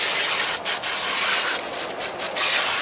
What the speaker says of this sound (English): So we're washing it off.